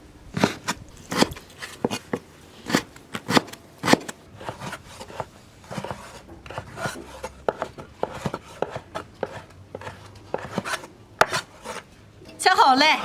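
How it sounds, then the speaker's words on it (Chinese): A knife chops soaked dried radish into small dice on a board in a rural home kitchen, giving close, crisp, rapid and slightly irregular thuds that run throughout with no talking. "泡好的萝卜干全部切成丁儿。"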